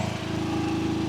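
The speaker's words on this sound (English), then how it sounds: "I'm gonna go ahead and turn his revs up." A commercial pressure washer's small engine runs at high revs, a steady buzzing drone with a fast regular pulse, close and loud across the short stretch, no talk.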